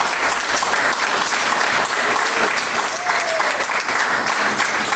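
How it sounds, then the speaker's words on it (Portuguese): A church congregation breaks into loud, sustained applause, a dense steady roar of clapping with faint voices mixed in. "Quem bate palmas?"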